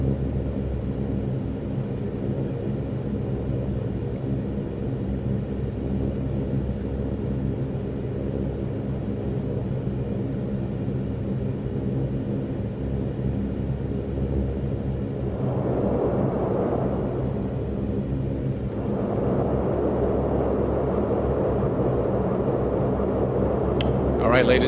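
Saab 340A twin turboprop engines rolling for takeoff at Southampton in X-Plane 11, a steady low rumbling drone with a rising swell of power partway through, continuous and fairly even.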